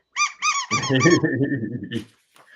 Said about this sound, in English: They're a hoot. They're a squeak.